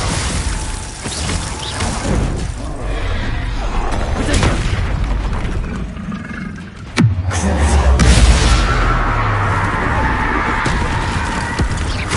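A Bombarda explosion spell goes off in the wizarding video game Hogwarts Legacy, with a sharp booming blast midway, then a rumbling roar and crackling debris, over a dense, loud battle soundscape.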